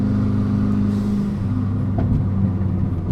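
A Renault Megane RS RB8 project car's engine drones and chokes at full throttle during a canyon drive, a steady, muffled low rumble heard from inside the cabin.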